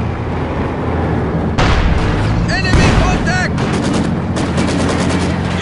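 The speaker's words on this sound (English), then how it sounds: "Take cover! Taking fire! They've opened up on us!" Dense gunfire and explosions in the World War II strategy game Company of Heroes 2, with loud continuous shooting, booms and rattling bursts while soldiers' voices shout over the battle.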